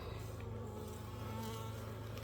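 Honeybees hum in an open hive during a split, a dense, steady buzzing drone that stays close and loud throughout with no voices.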